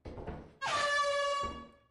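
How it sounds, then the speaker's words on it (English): A single sustained air horn blast in the video game Lethal Company, with a slightly flat, wavering tone, loud and close, following a brief burst of muffled noise. "My air horn sound a little sad."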